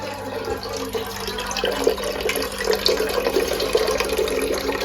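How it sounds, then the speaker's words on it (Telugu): Water runs from a tap as a steady, faint splashing stream with a few louder surges, heard alone against a low background hum while ingredients are prepared for cooking noodles. "చూడండి పానీ ఎలా పోతున్నాడు దుర్గాప్రసాద్ వాటర్ తీసుకుంటారు వెళ్ళి"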